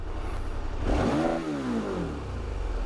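A KTM 1290 motorcycle engine starts and revs up. A rising surge of mechanical roar swells about one second in, then settles back to a steady, loud running note that continues to the end.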